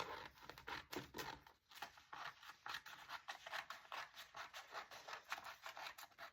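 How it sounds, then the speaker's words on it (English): Scissors cutting printed paper into a circle, a faint close sequence of crisp snips and paper rustles in an uneven rhythm. "I'm just going to cut it in a circle."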